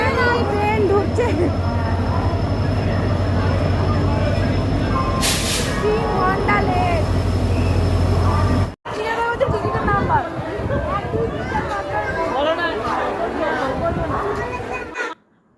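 A passenger train pulls into a station late at night, a steady low rumble and rolling clatter filling the platform amid a loud babble of waiting crowds and voices, with a brief sharp burst partway through before the scene continues.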